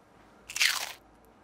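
A single short, crisp crunch of a bug being bitten into, close and fairly quiet, over light background hiss.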